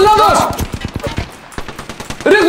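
Rapid automatic gunfire in the video game Apex Legends, bursts of quick loud shots rattling in bunches with brief gaps, with voices speaking at the start and end.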